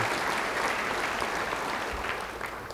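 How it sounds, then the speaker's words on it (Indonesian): Church congregation applauding during a sermon, a steady wash of clapping that holds evenly throughout and fades slightly toward the end, with no speech over it. "Yang mau beri tepuk tangan bagi dia."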